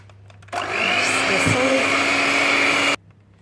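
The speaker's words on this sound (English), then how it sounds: "Add a tablespoon of sugar at a time and whisk it for a few seconds in between." An electric whisk beats pavlova meringue as sugar goes in, making a loud, steady whirr that runs for about two and a half seconds before cutting off.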